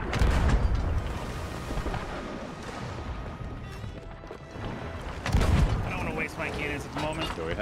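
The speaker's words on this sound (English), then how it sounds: "I'm hitting my cannons." Cannon fire in a Sea of Thieves ship battle, heavy booming blasts, one near the start and another around the middle, over continuous loud game noise with players talking throughout.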